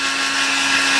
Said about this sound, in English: Get my old hair dryer going